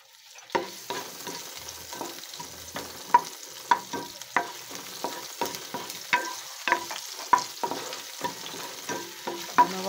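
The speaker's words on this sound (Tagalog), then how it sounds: "nagpainit na po ako ng kawali na may mantika. Tapos, ilagay ko na po yung sibuyas na hiniwa ko." Sliced onions sizzle and crackle in hot oil in a frying pan, with steady frying hiss punctuated by repeated sharp stirring clicks and scrapes, close and moderately loud, no talking.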